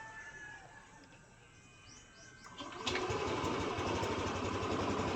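A Yamaha NMAX V3 scooter engine catches partway through after a quiet stretch, then holds a steady, close idle with a buzzy mechanical hum.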